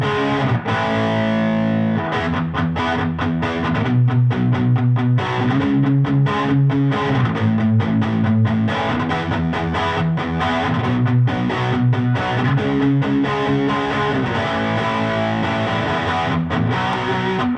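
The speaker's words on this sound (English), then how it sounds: "This is all the amp distortion right now." Electric guitar driven hard through an amp's distortion, playing loud, sustained chords and riffs with a steady rhythmic pulse that stays up front for the whole passage, with no talking.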